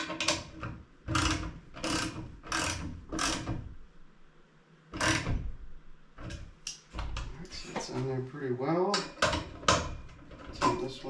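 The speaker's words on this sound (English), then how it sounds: "You tighten these bolts down a little bit. And let's crank them in here." A ratchet tightens bolts on the mount of a RAKwireless 8 dBi fiberglass antenna, giving bursts of clicking strokes close by, mixed with someone talking.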